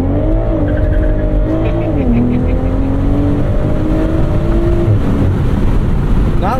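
A 2023 BMW Z4 M40i in manual mode does a burnout launch, the engine roaring loud and close as revs climb in steps while tires squeal steadily underneath.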